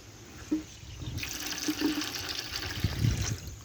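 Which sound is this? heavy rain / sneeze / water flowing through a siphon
water flowing through a siphon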